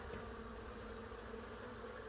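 Steady, close buzzing of many bees swarming around an open hive during an inspection, continuous and even throughout with no talk.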